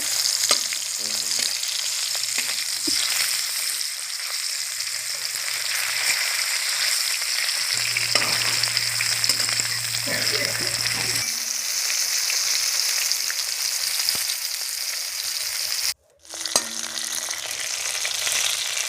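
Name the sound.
fish frying crisp in oil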